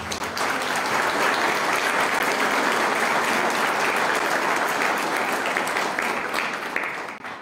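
Sustained, loud applause from an audience at a civic tribute ceremony in Tepeaca, honoring a former municipal president; clapping fills the whole stretch evenly before tapering slightly at the end.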